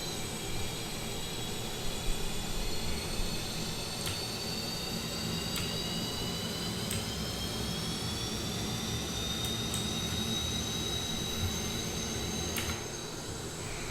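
Steady roar and high whine of an F-5E Tiger II jet engine running in the DCS flight simulator, with rising turbine tones, a broadband hiss and a few faint clicks over a constant level.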